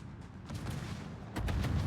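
Naval guns firing in World of Warships, a run of muffled booms with a heavier blast near the end over a low rumbling background.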